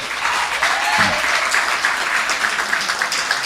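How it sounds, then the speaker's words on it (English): An audience at an outdoor political meeting in Tunapuna claps in a sustained round of applause, dense and even, with a brief voice rising partway through. "Give her a round of applause tonight."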